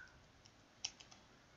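Quiet typing on a computer keyboard: a few scattered soft key clicks, one slightly sharper, over a low hiss of room noise, with no voices.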